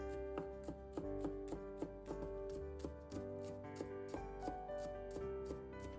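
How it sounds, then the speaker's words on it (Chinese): A knife chops washed scallion whites into small pieces on a cutting board, making quiet, steady, rhythmic taps with no talk. "先把葱白切下来，"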